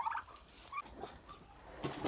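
Hungry crossbred turkey from a Bronze turkey line gobbling in a Ukrainian poultry yard, a few short bursts of clucking and gobbling, moderately close but fairly quiet.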